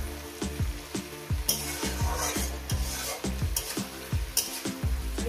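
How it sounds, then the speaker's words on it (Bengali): Onions fry in a pan for Bengali borboti aloo posto, sizzling steadily beneath a regular rhythm of sharp stirring scrapes and clinks from a utensil against the pan, close and clear. "এরপর দিয়ে দেবো পেঁয়াজটাকে। আরও আমি 3 মিনিট ভেজে নিয়েছি, 4 মিনিট ভাজবো।"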